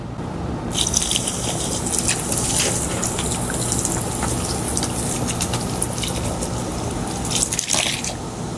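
Strawberry milk and Sprite pour steadily into a Korean hwachae fruit bowl, a continuous splashing, fizzing liquid stream running close and loud for several seconds.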